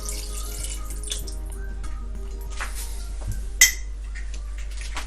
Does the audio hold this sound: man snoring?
no